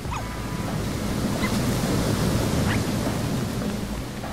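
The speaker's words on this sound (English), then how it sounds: "Those waves are frightening, though." Ocean waves in the game Shelter 2 roar as a steady, loud wash of surf with wind noise, continuous and broad throughout with no pauses.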